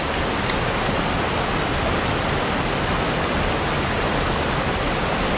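Fast mountain stream in a Carpathian forest rushing loudly and continuously, a steady broadband roar of churning water close by, with no voices.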